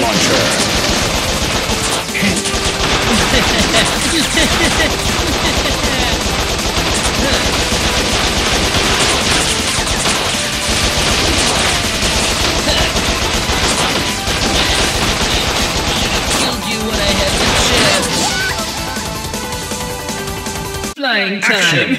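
Machine gun fire in the video game Bot Vice, a loud, dense, continuous barrage of rapid shots with crashes and explosions layered in, sustained for about twenty seconds before cutting off abruptly.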